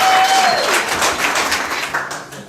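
Wedding guests applaud during a toast, a brief wave of clapping that starts full and fades over a couple of seconds, with a faint tone and murmur beneath.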